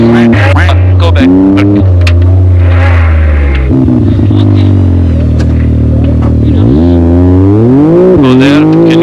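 Dakar 2022 rally car engine held at full throttle, a loud close-up roar with rising and falling pitch sweeps as revs climb and shift, continuous throughout with occasional voices briefly under it.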